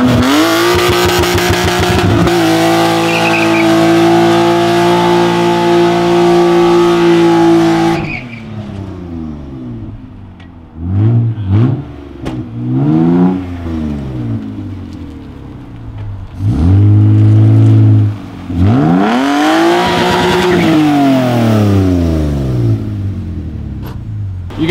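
An S52-swapped BMW E30 revs hard with a long screeching tire squeal, then cuts off. Several rising engine pulls and shorter chirps follow, loud and close, with no talking.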